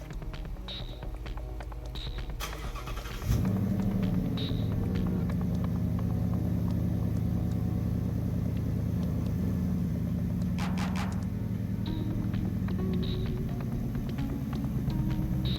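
A Ford Mustang's engine starts up or rolls in with a sudden low rumble, then holds a steady, moderately loud idle hum inside a garage, with faint clicks and ticks around it.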